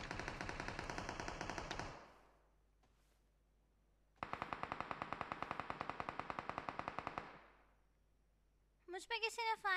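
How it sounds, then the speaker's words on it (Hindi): Rapid machine-gun fire from a shooter video game, two long sustained bursts of evenly spaced shots separated by a brief gap, followed by a few scattered sharper shots at the end. "मुझ पे किसी ने फायर किया था।"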